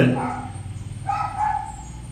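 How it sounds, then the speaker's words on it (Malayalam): A neighbour's dog barks and yips a couple of times nearby in a short burst, mixed with a faint background hum. "ഇത് അപ്പുറത്തെ വീട്ടിലെ പട്ടിയാണ്"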